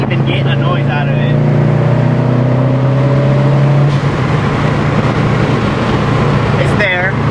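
A Subaru WRX STI fitted with a Greddy blow off valve revs hard and then drops back under steady road and wind noise, with a brief whoosh near the end, while someone talks over it.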